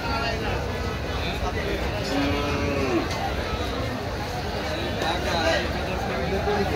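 Cattle low and moo amid a noisy crowd at Gabtoli cattle market in Dhaka on Eid eve, people chattering all around, a couple of drawn-out moos rising above the steady babble.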